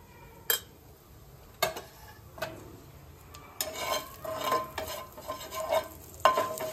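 Mustard seeds, cumin, turmeric and asafoetida fry in hot oil in a pan, giving a faint sizzle under frequent spoon stirring and metallic clinks against the pan. No one speaks.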